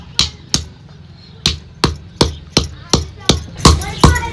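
Dried coconut and garlic are cut into pieces on a hard surface, giving about eleven sharp, close chopping thuds in a fairly steady rhythm, with no talking.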